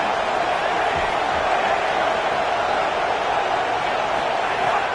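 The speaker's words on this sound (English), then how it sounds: "This crowd going to try to make life miserable for these guys." Steady, dense roar of a stadium crowd in the College Football 27 video game, loud and unbroken for the whole stretch with no clear individual voices rising out of it.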